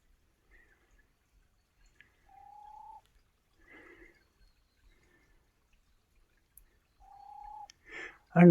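A small owl calls in a quiet forest by a stream's headwaters, giving a few soft, faint, even-pitched hoots spaced several seconds apart, with a voice murmuring briefly between them.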